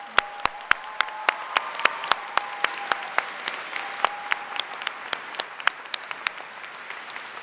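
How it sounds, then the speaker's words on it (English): Sparse, separate claps ring out in a large hall at an engineering graduate ceremony after faculty names are read, a faint tone running beneath the first few seconds. "Applause"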